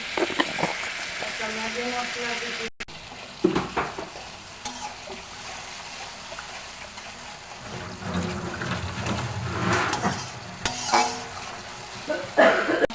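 Tengra fish frying in a pan for bhuna with turmeric added, a steady close sizzle broken by the scrape and clatter of stirring, with brief speech in places.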